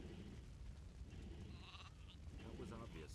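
Sheep bleat in the fantasy video game Gothic 2, a quavering wavering cry in the middle of the clip, over steady low game ambience and voices talking.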